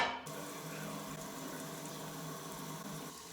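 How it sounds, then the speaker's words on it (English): Water runs steadily from a tap as hands are washed at a sink, a constant close wash of splashing with no talk. "I am going to wash my hands before I bake"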